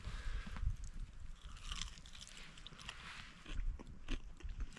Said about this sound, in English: So I sit here munching on my bacon.